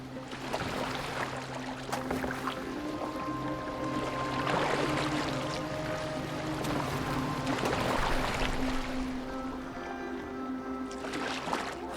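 Boat moving over water in Assassin's Creed Valhalla, a steady wash and lapping of water against the hull running the whole time under a constant low drone, with gentle swells in the splashing.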